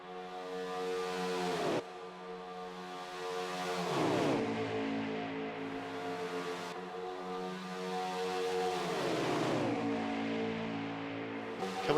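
Stock cars in a sim racing game running at Daytona in an Xfinity Series race, a pack of engines droning in harmony, with repeated rising-then-dropping passes as cars sweep by one after another.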